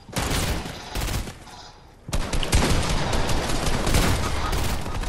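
Dense, loud automatic gunfire in Fortnite, fired from a sky base, pouring out in a short burst, then a brief lull, then a long sustained barrage.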